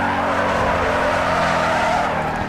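A car drifts in the Need For Speed Underground 2 racing game, with a loud, steady tire squeal over a droning engine that holds for the whole stretch and no talk.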